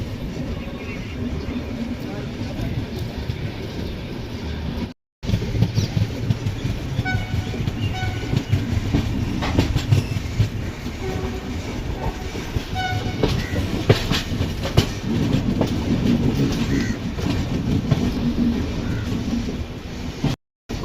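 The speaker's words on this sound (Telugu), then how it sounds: "ఇంకో బండి వస్తుంది. ఏం బండి ఇది? వ్యాప్ 4 లోకోమోటివ్తో." Passenger train hauled by a WAP-4 electric locomotive passing a busy station on the line from Chengannur toward Mangaluru: loud, steady rumble and rattling wheel clatter filling the whole stretch, with faint horn tones and people talking in the background.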